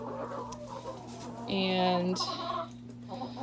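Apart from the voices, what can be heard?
chickens clucking in a coop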